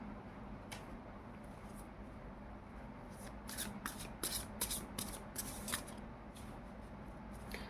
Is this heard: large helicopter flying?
no